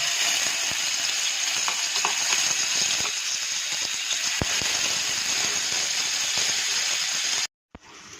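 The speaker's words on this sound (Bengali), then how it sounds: "গরম তেলে পটলের বিচি বাটাটা দিয়ে দিলাম" Pointed gourd seed paste frying in hot oil, a loud continuous crackling sizzle with scattered small pops, nearby, cutting off abruptly near the end.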